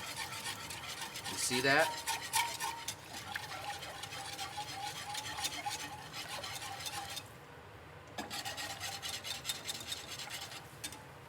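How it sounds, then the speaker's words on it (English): Milk being stirred into flour in a pot for scalloped potatoes, a soft continuous scraping and swishing close by, with a short spoken remark partway through. "There's our milk. Let's stir this around."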